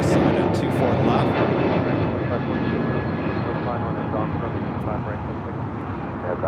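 Airliner passing low over LAX on approach, a broad roaring jet rumble steady throughout, with a voice speaking over it.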